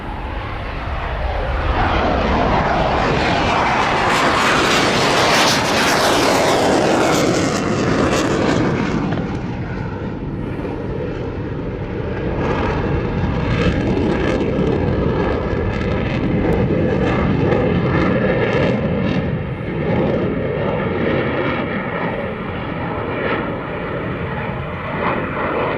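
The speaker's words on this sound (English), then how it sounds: "Enjoy this F-18 you're going to love." An F-18 fighter jet roars overhead at an aviation show, swelling to a loud, tearing peak early on and then fading into a long, rumbling jet-engine drone.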